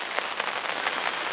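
Steady rain falls outside a carp angler's fishing bivvy, a constant dense patter with soft brighter bursts of drops throughout, even and close, with no voices.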